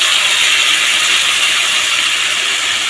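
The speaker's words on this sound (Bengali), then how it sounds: "এই অবস্থায় আমি দিয়ে দেবো এই মিহি পেস্টটা, আদা রসুন টমেটো লঙ্কা হলুদ একসাথে" Loud, steady sizzle of a fine ginger, garlic, tomato, chili and turmeric paste hitting hot oil in a frying pan with fried pointed gourd and potato, a continuous close hiss with no voices.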